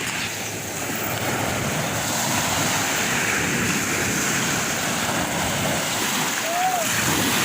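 Steady surf of sea waves washing in with a constant roar, buffeted by wind noise across the microphone.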